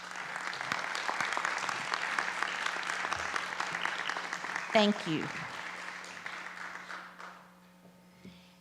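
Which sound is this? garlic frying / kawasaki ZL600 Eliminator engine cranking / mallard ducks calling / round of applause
round of applause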